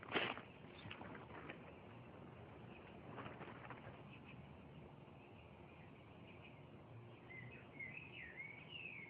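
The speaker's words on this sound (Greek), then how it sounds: "Ένα σπουργίτη είναι, πατέρα." Faint, scattered sparrow chirps over steady outdoor background noise, with a few short calls early on and brighter twittering toward the end.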